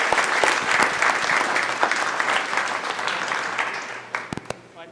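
A room of attendees at a school board meeting claps for the core team, a full, continuous round of applause that thins and tapers off toward the end, with a few last isolated claps.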